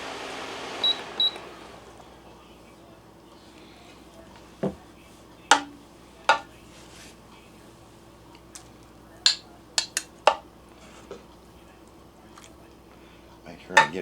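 Freeze-dried chicken and dumplings are ladled into bowls with a handful of sharp, scattered clinks and scrapes of utensil against dishware, spaced irregularly over a quiet background.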